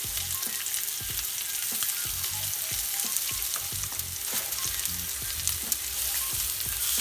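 Lamb chops frying in a pan with crushed garlic, a dense steady sizzle with crackling pops and light spatula taps throughout, no talking.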